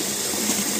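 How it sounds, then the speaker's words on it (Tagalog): Rice being washed in water in a kitchen in Kuwait makes a steady, loud, close rush of running and splashing water, with no talking. "Hugasan po natin ang bigas hanggang sa luminaw ang tubig"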